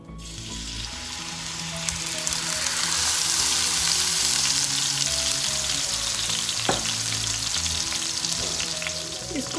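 Minced meat frying in half a cup of hot oil in a preheated pan, a loud, dense, continuous sizzle heard up close that swells and holds steady, with a faint clink partway through.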